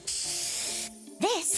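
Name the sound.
hairspray spraying in a video game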